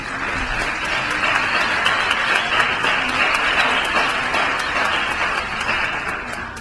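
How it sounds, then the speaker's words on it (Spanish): An audience at a conference on virtual reality technologies for physical rehabilitation gives sustained applause, dense and even clapping that fills the space for several seconds. "Le damos un fuerte aplauso por su conferencia."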